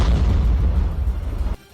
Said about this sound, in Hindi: तभी उन दोनों के बेहद नजदीक एक और जोरदार धमाका हुआ